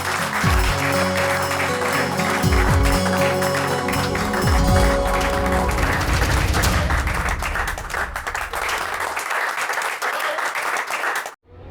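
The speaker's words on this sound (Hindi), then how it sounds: "जिंदाबाद, तालियां।" A television drama audience breaks into loud, sustained applause with dense clapping that gradually thins before stopping abruptly near the end.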